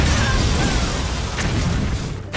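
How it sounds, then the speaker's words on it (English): Loud, continuous explosion effects from the Hearthstone digital card game, a dense booming roar that holds steady for about two seconds before cutting off abruptly. "He's gonna cause a big boom. A lot of explosions now."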